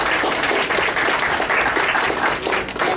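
A crowd at a postage stamp dedication ceremony breaks into steady, dense applause, many hands clapping together loudly and continuously for a few seconds with no voices standing out.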